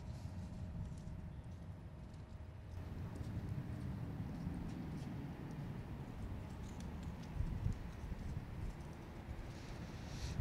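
Horse hooves clip-clop steadily on the ground as the animal walks along behind a person, a soft continuous plodding at close range with light wind noise and no talking.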